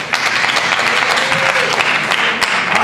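A roomful of people claps to cast a vote during a quiz-show style game, a short, full burst of applause at a steady loud level with a few voices faintly mixed in.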